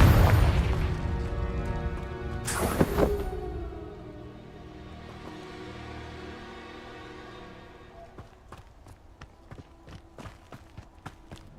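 A Confringo fire spell explodes in Hogwarts Legacy, a loud booming blast followed by a fading rumble and then footsteps tapping.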